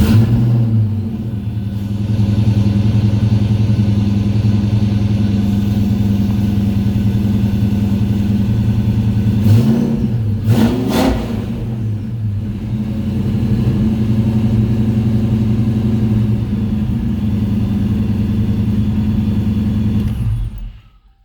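A Ford Mustang Foxbody with a 5.0 V8 idles with a loud, deep rumble close by, stumbles briefly during a restart around midway, then settles back into a steady idle before shutting off abruptly.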